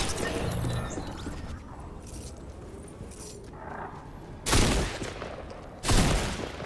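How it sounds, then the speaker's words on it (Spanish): Gunfire in the video game Fortnite, two loud close bursts of shots after a stretch of quieter rumble and faint game noise, no talking. "Te están disparando, Javi."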